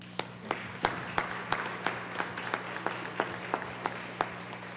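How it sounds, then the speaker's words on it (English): Sparse, scattered clapping in the Colorado Senate chamber, a few hands applauding in a quiet room with a faint steady hum underneath. "may I please just invite the chamber to give these leaders a round of applause."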